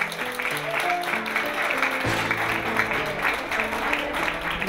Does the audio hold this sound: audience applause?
yes